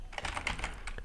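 Quick, close keystrokes on a computer keyboard as a console command is typed, a short run of crisp clicks with no speech.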